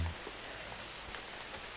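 Steady rain falling outdoors over an ant harvest field, a dense, even patter that holds at a constant level for the whole stretch, with no voices.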